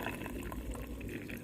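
Matcha tea being poured into a cup, a continuous close gurgling stream of liquid splashing, steady and moderately loud with no voices.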